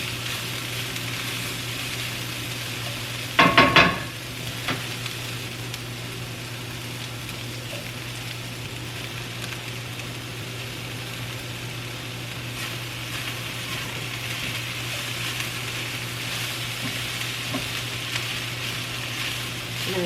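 Peppers and corn sizzle in a frying pan for tamales with fire-roasted vegetables, with a brief louder clatter as they hit the pan and then a steady low frying hiss that continues throughout.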